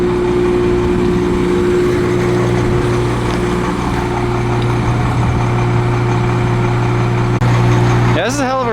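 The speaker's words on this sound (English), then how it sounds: "Generator's running out front." A generator runs out front of a 40 ft Class A diesel pusher RV, giving a loud, steady engine drone with a constant hum that holds through the clip, and a short chirp near the end.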